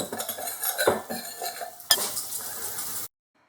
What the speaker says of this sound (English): Let's give these herbs and spices a mix in.